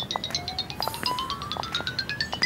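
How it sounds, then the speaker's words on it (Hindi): A phone rings for an incoming call with a bright electronic melody of quick repeated beeps over a slowly rising tone, moderately loud and alone. "इस वक्त किसकी कॉल आ रही है सुबह सुबह?"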